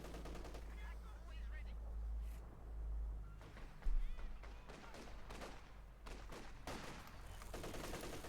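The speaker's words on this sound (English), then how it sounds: "machine gun right in the entrance of the base, and it's getting satcheled" Machine gun fire in Company of Heroes 2 as a gun at a base entrance is attacked: rapid bursts of gunfire and sharp blasts mixed with battle noise, under a commentator talking.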